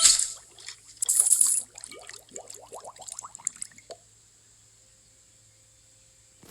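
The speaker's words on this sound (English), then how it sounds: "Next is the bubble bow, and I'm pretty sure it speaks for itself." The bubble bow effect in Roblox Bow Battle Arena fires off a burst of watery pops and bubbly rising blips in quick clusters, fairly loud, then fades into near silence.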